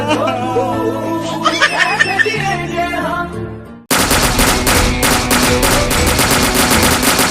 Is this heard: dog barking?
no